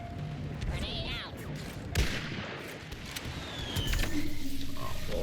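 A grenade goes off in the Star Wars Battlefront 2 game as a sudden blast, surrounded by ongoing rattling gunfire and battle noise.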